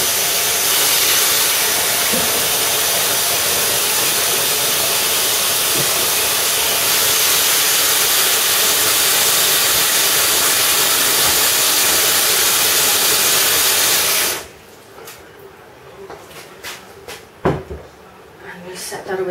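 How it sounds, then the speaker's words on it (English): A loud, steady rushing hiss of water heating in an electric kettle, cutting off abruptly near the end, followed by a few clicks and clunks. "while I'm waiting for the kettle to boil"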